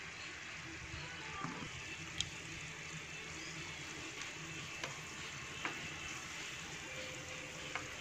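Bánh cam, round Vietnamese sesame rice cakes, fry in hot oil with a steady broadband sizzle throughout, broken by a few soft clicks of stirring or utensil taps; no voices.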